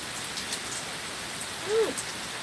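Steady rain falls on an evening in Virginia, a dense even hiss of drops on surfaces with no letup, and a brief faint chirp rising over it partway through.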